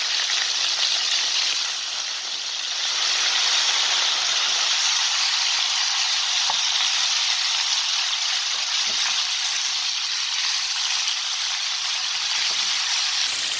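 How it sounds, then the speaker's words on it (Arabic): Onions hit chicken frying on a gas stove, giving a steady bright sizzle and hiss that runs without pause and dips slightly for a moment before settling into an even, loud crackle. "هنضيف بقى البصل بتاعنا"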